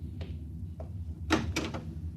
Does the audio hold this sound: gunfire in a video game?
no